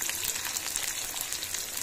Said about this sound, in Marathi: जिरं तडतडतं आहे तर मी आता कांदा टाकून देते यामध्ये